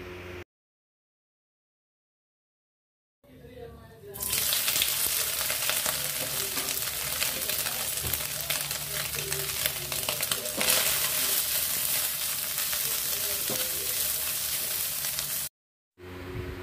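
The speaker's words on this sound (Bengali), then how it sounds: "প্রথমে সামান্য তেল দিয়ে সিদ্ধ করে রাখা সয়াবিন ফ্রাই করে নেব।" Pre-boiled soybeans fry in a little oil, giving a steady, close sizzle with faint stirring scrapes that runs nearly unbroken for about twelve seconds after a brief quiet start, with no talk.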